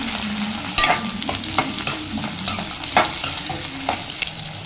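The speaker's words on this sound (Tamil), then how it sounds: "2 பச்சை மிளகா இதெல்லாம் சேர்த்துட்டு ஒன்று சேர லைட்டாக வதக்கி விட்டுக்கலாங்க." Tomato and green chillies sauté in a pan for a Tamil greens kuzhambu, giving a steady sizzle broken by a few sharp scrapes and clinks of a spoon stirring. Nobody speaks.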